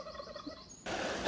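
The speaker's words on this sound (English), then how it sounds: "Oh, and some turkeys down there," Turkeys in the Somerset countryside near Crowcombe gobble back in a rapid warbling burst, clear but somewhat distant, followed by a rush of wind noise.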